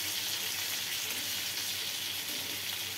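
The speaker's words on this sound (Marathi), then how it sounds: "मस्तपैकी फ्राय झालेले आहेत" Malvani-style chicken and liver fry in a hot pan, giving a loud, steady, close-up sizzle that runs unbroken throughout with no talking.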